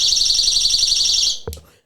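A storage-area alarm sounds as a loud, steady high pulsing beep that cuts off abruptly, followed by a brief clunk and then silence.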